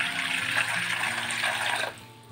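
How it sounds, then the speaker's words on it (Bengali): Cold water pours from a tap over blanched potatoes, a close, fairly faint rushing splash that runs steadily for about two seconds and then stops abruptly. "আবারও খানিকটা ঠান্ডা জলের মধ্যে দিয়ে দিচ্ছি।"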